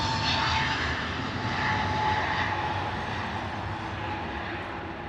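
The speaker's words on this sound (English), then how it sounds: "British Airways A321neo is our next departure off to Inverness." British Airways Airbus A321neo departing London Heathrow, a loud sustained roar of jet engines with broad whooshing noise and a faint tonal whine, steady then slowly easing as it moves away.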